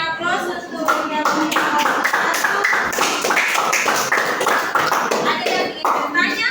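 A classroom of students claps together after a group's presentation, producing a steady, dense patter of hand claps that holds evenly throughout.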